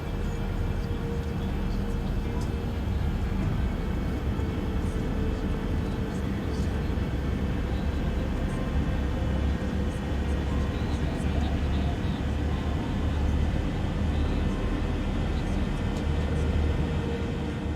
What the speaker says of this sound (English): I'll hear and possibly see the flaps going down.